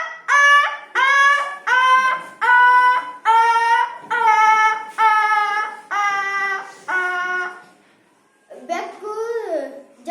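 A boy mimics a dog yelping after being struck by a stone, a string of about eight loud, close, rising-and-falling vocal cries in steady rhythm, followed by a brief pause and one more whine.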